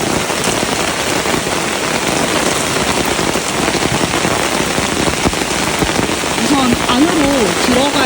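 Heavy rain pours steadily on a campsite, a dense, loud wash of drops drumming on surfaces throughout, with a faint tonal sound rising near the end.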